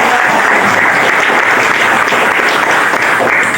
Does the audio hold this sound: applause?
yes